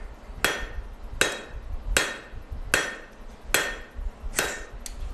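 Hammer striking a butterfly knife blade during forging, six sharp metallic blows at a steady, unhurried rhythm, each ringing briefly before the next.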